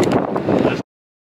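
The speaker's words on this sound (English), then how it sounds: "A little windy too." Wind on a mountain scramble, a short close rumbling buffet against the microphone that cuts off abruptly after under a second.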